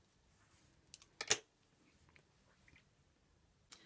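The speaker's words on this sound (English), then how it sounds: "and then I can cut my thread." Scissors make a single sharp snip through sewing thread after a shirt collar seam is stitched, close and quiet, with a few soft handling clicks around it.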